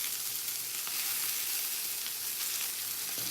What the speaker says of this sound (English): I already put the oil, now I'm just going to put the butter.